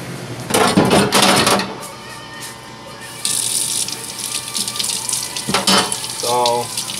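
Tap water gushes loudly over small frozen yogurt machine parts and O-rings being rinsed in a sink, with splashing and clattering handling noise that starts and stops. A person talks briefly over it.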